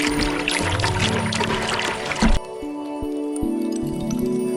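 Water from a spring that stays unfrozen in winter pours and gurgles close by, a busy splashing stream that cuts off abruptly, leaving a quieter low trickle.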